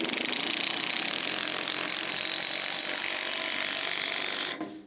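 A power tool tightens a fitting in a steady, loud, continuous whir and rattle that runs for about four and a half seconds, then cuts off abruptly.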